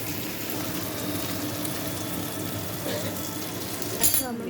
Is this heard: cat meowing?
no